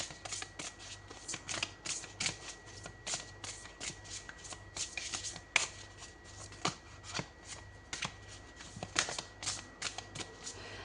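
Tarot cards are shuffled close by in quick, crisp riffles and flutters, with repeated bursts of papery slapping and a few sharper snaps across the stretch, and no one talking.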